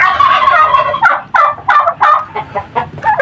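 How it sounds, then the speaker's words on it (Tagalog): Two fighting turkeys gobbling loudly and close, a long rattling call followed by a rapid run of choppy gobbles and squawks. "nag-aaway yung dalawang pabo ron"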